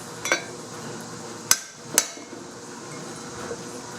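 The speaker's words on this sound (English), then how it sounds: "you use a brass piece to knock the race all the way into the bottom" Sharp metallic taps ring out as a brass piece is hammered against a trailer wheel bearing race, one light strike followed by two louder hammer blows about half a second apart, close and clear against a quiet background.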